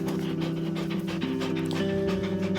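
A dog pants rapidly and steadily up close, its quick rhythmic breaths continuous throughout with a faint tonal hum underneath.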